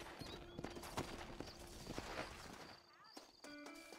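Horse hooves clip-clopping in the Red Dead Redemption video game, a run of steady footfalls mixed with game sound effects and music-like tones, with a voice speaking over part of it.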